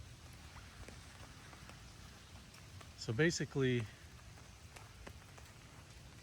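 Steady rain pattering on an umbrella sheltering a field sketching setup, a dense, even hiss of drops with scattered sharper taps throughout, close and moderately loud, with a voice speaking briefly in the middle.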